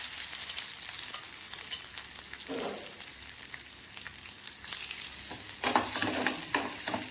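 Mustard seeds, urad dal, curry leaves, onion and dried red chillies sauté in hot oil for a green bean poriyal, giving a steady close sizzle with scraping stirs and crackling bursts that grow louder near the end.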